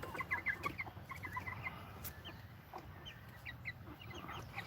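Two Copper Maran hybrid roosters cluck softly in a pen, a quiet run of short repeated clucks and chatter over a low, steady outdoor background.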